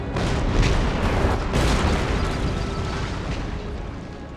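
Cannon fire in an Empire Total War battle: a few deep, rumbling booms in quick succession over a dense, noisy battlefield din, loud and close.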